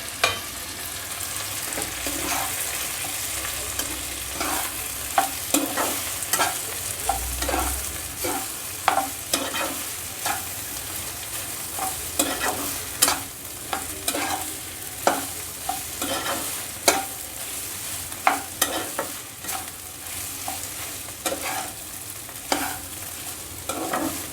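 A utensil scrapes and stirs instant noodles in a sizzling frying pan, with repeated sharp clinks and a steady background hiss, no voices.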